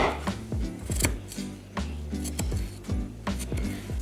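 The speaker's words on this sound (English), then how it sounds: "I think what we need to do first is chop our vegetables." A knife chops carrots on a cutting board in a cozy country kitchen, giving quick rhythmic knocks in uneven bursts, close and fairly loud, over soft background music.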